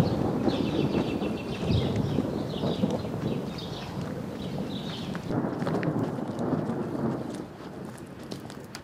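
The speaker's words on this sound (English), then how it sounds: "actually just thundered." Thunder from an evening thunderstorm rumbles low and long across the whole stretch, a rolling distant roar with rain-like hiss over it and no talking.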